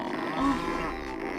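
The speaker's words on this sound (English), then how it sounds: "Why is there a cow sound?" A bull in Banjo-Kazooie lets out a short, low moo, brief and close, over steady game background sound.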